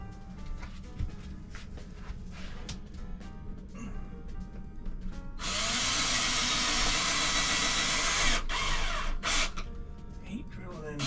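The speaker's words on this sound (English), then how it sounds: "Hate drilling" A power drill whines steadily for several seconds, a high sustained buzz biting into a hard wall, drilling a new hole, stopping and restarting briefly near the end.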